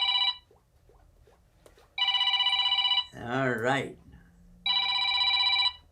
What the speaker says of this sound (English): somebody's calling us right now